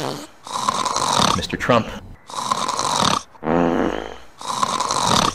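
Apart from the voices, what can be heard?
person snoring loudly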